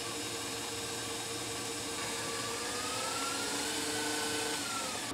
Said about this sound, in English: whisk up our eggs and sweetener just until the sweetener is kind of dissolved. Our yeast is good, our butter's melted, so let's get to whipping